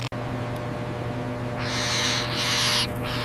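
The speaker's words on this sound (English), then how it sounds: "owls are naturally nocturnal hunters" Barn owl screeching, with long harsh hissing calls rising after a quiet start and repeating twice over a steady low background hum, fairly close.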